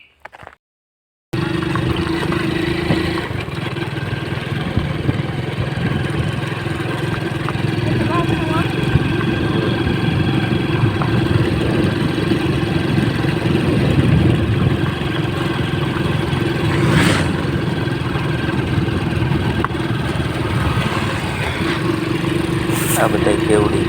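Motorcycles ride along a road near the Kevdi eco-tourism site, their engines a steady mid-pitched drone with constant rushing noise throughout.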